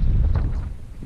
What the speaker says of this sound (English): Was really pretty cold and windy.